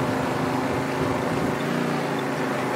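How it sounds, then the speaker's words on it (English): A small boat's motor drones steadily and loudly in Mafia: Definitive Edition, a continuous engine hum with water wash and no breaks throughout. "I'm enjoying driving this small boat that we're driving right now"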